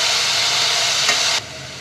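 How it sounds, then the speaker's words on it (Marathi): Pineapple pieces sauté in caramelized sugar, a loud continuous close-up sizzle and hiss that drops abruptly in level near the end. "अननसाचे ज्या फोडी आहेत त्या टाकून घ्यायच्या आणि छान याच्यात परतून घेऊया."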